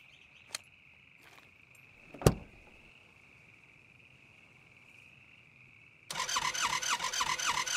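A car in the video game SCUM starts: a steady electrical whine with a couple of sharp clicks and a thud, then the engine abruptly catches into a loud, rough idle.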